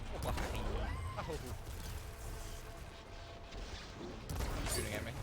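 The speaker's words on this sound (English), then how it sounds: "Shooting at me." Gunfire from enemies in the video game Horizon Forbidden West crackles in dense, continuous bursts with heavier booms at the start and end, loud over game noise while a player talks.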